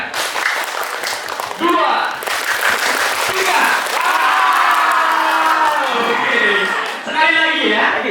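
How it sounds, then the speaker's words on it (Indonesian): A group of students at a school organization inauguration claps and cheers loudly together, their voices mixing with the clapping throughout. "Mari kita coba tepuk bahagia."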